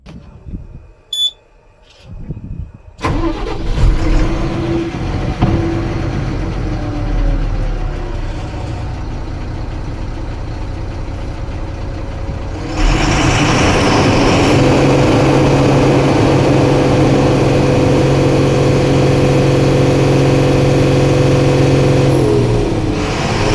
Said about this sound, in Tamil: வண்டியை ஸ்டார்ட் பண்ணி காமிக்கிறோம் பாருங்கள் இன்ஜினோட சவுண்டு மிக மிக தெளிவாக இருக்கும்